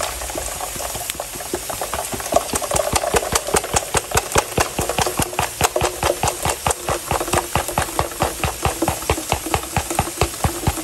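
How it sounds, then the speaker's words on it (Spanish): A kitchen blender running on garlic, onion and chicken broth, a loud rapid pulsing whir with regular rhythmic beats throughout, close and alone without talk. "Y esto lo vamos a llevar a licuar."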